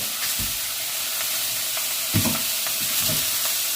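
Chicken pieces, some skinless, sizzle in an electric skillet with no cooking oil, a steady close hiss with a few soft knocks and scrapes as the pieces are set down.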